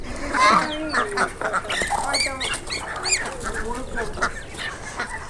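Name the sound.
roosters and hens clucking on a farm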